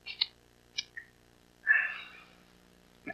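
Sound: kitten meowing

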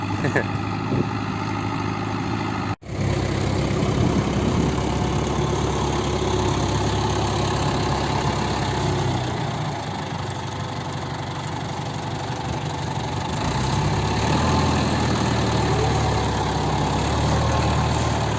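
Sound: tractor engine idling

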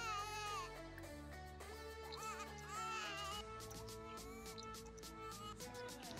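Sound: baby crying in the video game The Sims 4

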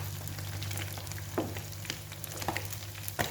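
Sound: fish frying in hot oil

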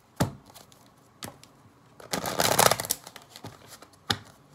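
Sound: shuffling tarot cards

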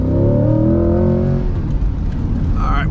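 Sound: C8 Corvette accelerating at full throttle

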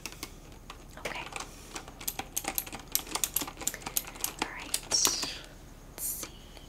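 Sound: computer keyboard typing

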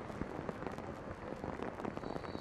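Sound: heavy rain falling

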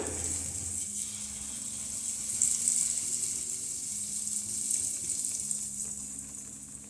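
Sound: malpua batter frying in ghee in a pan

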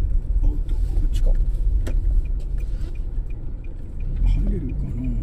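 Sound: car engine while driving into Numazu port

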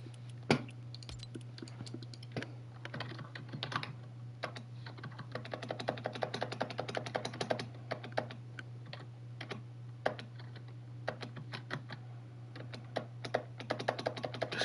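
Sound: computer keyboard typing

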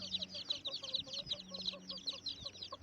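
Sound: chickens clucking

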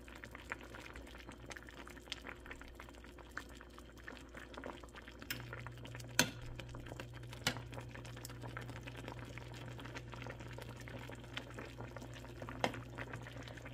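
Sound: soup boiling in pot

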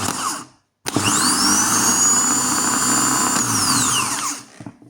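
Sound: repaired Skoda Octavia starter motor running

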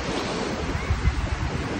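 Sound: sea waves on the Azov Sea beach

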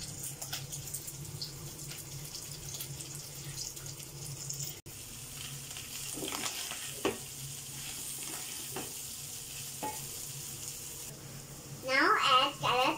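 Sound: cabbage being added and stir-fried with cooked chicken

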